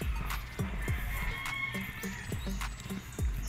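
Chickens on a farm in Dolores, Quezon cluck repeatedly in short bursts at close to middle distance, with a steady outdoor hum and faint birdsong underneath.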